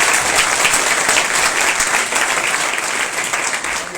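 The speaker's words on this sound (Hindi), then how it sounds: "इस समय आए आप जोरदार ताली बजाकर" A church congregation gathered for a New Year blessing service claps loudly together in a dense, sustained burst of applause that fades slightly toward the end.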